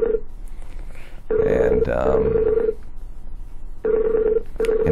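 An outgoing telephone call rings back in a steady repeating tone, with pauses between rings, loud and close, with a voice speaking over part of it.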